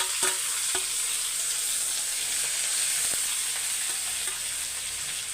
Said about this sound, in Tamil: கடுகு பொரியுது கடுகு பொறிஞ்சோடனே உடனே கருவேப்பிலை இஞ்சி பச்சை மிளகாய்